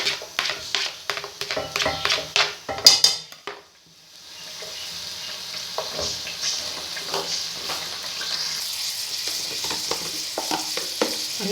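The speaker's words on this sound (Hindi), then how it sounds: "हल्का सा प्याज को नरम किया।" Onion for aloo baingan is stirred in a pan, with a run of sharp scraping clicks from the utensil, a brief pause, then a soft, steady sizzle with occasional light stirring taps.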